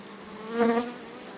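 Honeybees buzz around hive frames at a forest apiary, a near, steady drone that swells briefly to a louder pass as one bee flies close, then settles back.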